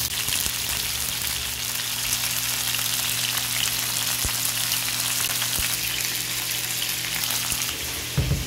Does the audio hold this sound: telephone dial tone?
no